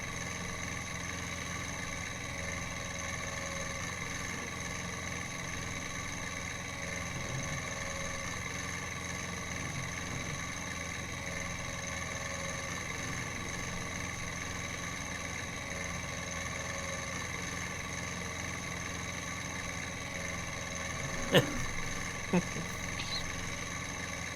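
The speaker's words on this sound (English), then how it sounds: "The little tractor needed a good workout anyway." A small farm tractor engine idling steadily throughout, a constant low mechanical hum with even vibration, joined near the end by a couple of brief sharp knocks.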